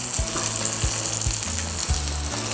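Pork sisig with egg frying on a hot plate, a loud close continuous sizzle with a few short thuds from stirring, no voices.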